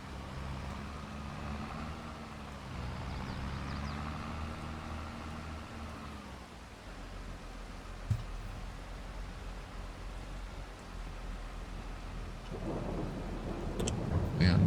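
Rain falls steadily on a farm while low thunder rumbles long and deep early on, then a sharp crack and heavier close rainfall build toward the end.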